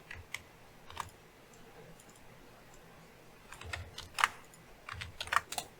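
Someone types a password on a computer keyboard in a quiet room, a few isolated key clicks at first, then a quicker cluster of sharp taps toward the end.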